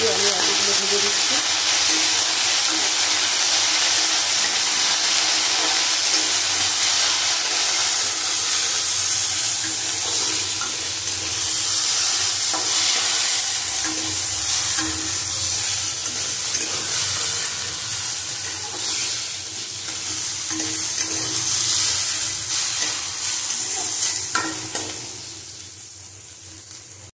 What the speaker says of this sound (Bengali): লবণ হলুদ দিয়ে আমি আলুগুলো ভেজে দিচ্ছি।